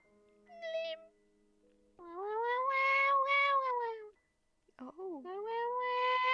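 A cat meows several times, long drawn-out cries with short pauses between them, close and loud.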